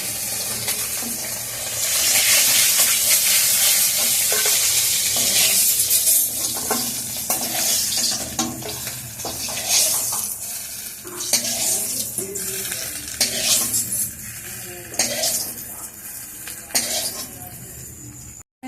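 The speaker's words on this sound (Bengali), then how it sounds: "মাছগুলো ভাজা হয়ে গেছে, এবার আমি তুলে দেবো গ্যাস কম করে দিয়ে।" Climbing fish frying in a pan at home, a dense, loud sizzle with metal utensil clinks and scraping as the pieces are turned and lifted, no speech.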